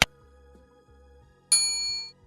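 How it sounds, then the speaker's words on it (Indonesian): Two bright notification-bell dings ring out, a sharp metallic strike at the start and a second, longer ringing chime about a second and a half later that fades slowly. "jangan lupa tekan tombol loncengnya supaya kalian mendapatkan notifikasi setiap kali saya upload video"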